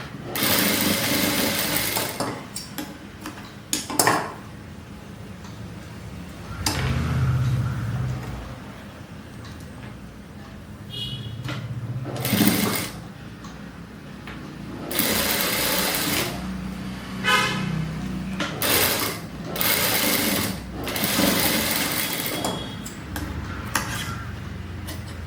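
Sewing machine running in repeated bursts as it double-stitches a half-inch seam on a frock made from an old saree, the motor whirring loudly with short pauses between runs.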